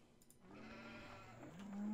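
Sheep bleat in the Farming Simulator 2017 video game, a quiet drawn-out wavering bleat rising toward the end of the short stretch, with no talk over it.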